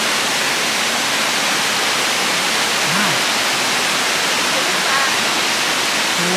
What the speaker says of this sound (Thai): ตรงนี้น้ำตกพิศวงมีชื่อเรียกนะครับ